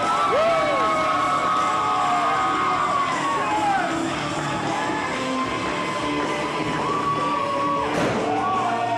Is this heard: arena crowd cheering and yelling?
yes